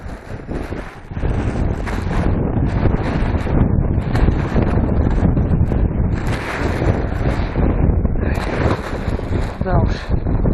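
Strong wind buffets the microphone while fishing from a small boat, a loud, continuous roar with gusts and splashing water, and a voice speaking faintly under the noise.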